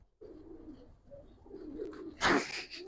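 Old-breed Giribaz racing pigeons with pearl eyes give low, rolling coos up close in a quiet loft, ending in a brief louder flutter or rustle.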